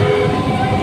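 A train arriving at a railway station, a loud close continuous rumble of wheels and carriages with a steady tonal horn or brake whine layered on top.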